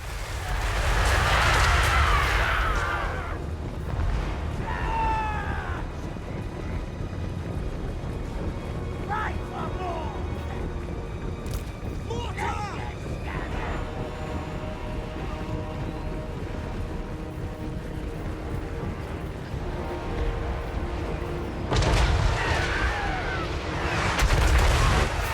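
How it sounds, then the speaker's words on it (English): Cannon fire in a Total War: Warhammer III battle: deep booming blasts, heavy at the start and again near the end, with scattered shots and battle noise between them and someone talking over the action. "Cannons are nice."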